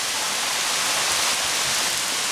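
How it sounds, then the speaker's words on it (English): Heavy rain pours steadily at a lake cabin dock up north, a dense, even roar of hissing water with no breaks. "It's pouring."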